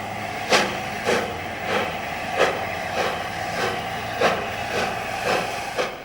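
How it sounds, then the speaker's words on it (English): A4 Pacific steam locomotive 60034 Lord Farringdon departing with a semi-fast passenger train: rhythmic, evenly spaced exhaust chuffs roughly every half second over a continuous hiss of steam and rumble, fairly close and steady. "A4 Pacific 60034 Lord Farringdon departs with the 6:26 semi-fast for Doncaster and Hull."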